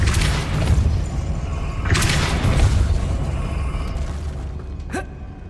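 Spell effects in Hogwarts Legacy, including the Depulso force-push spell: layered whooshing bursts and booming swells around the two-second mark over a continuous magical drone, ending with a sharp high zing.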